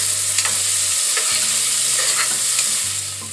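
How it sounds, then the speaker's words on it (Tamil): Chopped onions and green chillies sauté in hot oil in a pan for a Tamil papaya sev gravy, giving a loud continuous sizzle broken by repeated stirring scrapes, with no talking. "வெங்காயம் நல்லா வதக்கிக்கோங்க."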